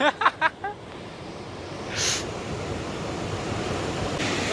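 A steady rushing of the flowing Krishna River fills the scene after a few brief voice sounds at the start, constant and moderately loud.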